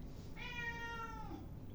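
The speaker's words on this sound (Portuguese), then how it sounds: "Ah, meu gatinho aqui miando." A pet cat lets out a single drawn-out meow indoors, a clear, moderately quiet cry lasting about a second, with no speech over it.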